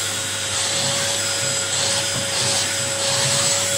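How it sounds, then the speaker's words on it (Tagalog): A Polti steam vacuum cleaner runs steadily and loud nearby, with a constant roaring whine, a fixed motor tone and a faint rubbing rhythm as it moves over a surface. "Steam and vacuum at the same time."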